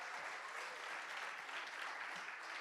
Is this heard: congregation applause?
yes